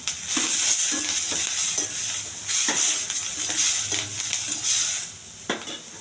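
Onion and green chillies fry in oil with curry leaves, a close, continuous sizzle broken by repeated scraping stirs of a spoon against the pan.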